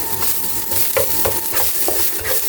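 A little cooking oil frying in a pan at home, a steady soft sizzle with light scraping and stirring taps throughout.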